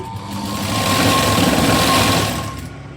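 A domestic sewing machine stitches along a round neckline, a near, steady whirring run that swells in speed and then eases off over a few seconds, no talk.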